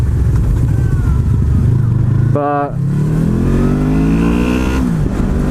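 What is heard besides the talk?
Honda VFR800X Crossrunner motorcycle engine while riding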